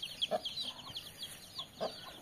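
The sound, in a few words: hen clucking with chicks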